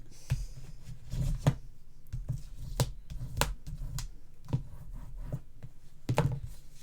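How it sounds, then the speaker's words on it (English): Paper on a Graphic 45 Ocean Blue mini album being burnished by hand, heard as quiet, close rubbing and tapping strokes in an irregular rhythm, each stroke brief and soft, over a low background hum. "Down a fraction, then burnish it."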